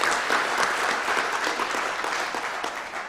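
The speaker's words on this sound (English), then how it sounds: "Will Ryan, let's give him a round of applause." Banquet audience at the Dakota Wesleyan University Legacy Banquet applauding an honoree, dense clapping from a large room that starts strong and gradually tapers slightly over a few seconds.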